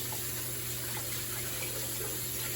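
Water pours steadily from a cooking pot as it is drained in a kitchen, a continuous rushing splash that stays even and close for the whole short stretch.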